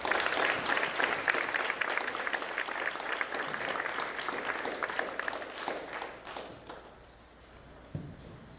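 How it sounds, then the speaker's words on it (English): Audience clapping at a school academic awards ceremony, a sustained loud round of applause that gradually thins and fades toward the end, with a single thump near the close. "Give them a round of applause again."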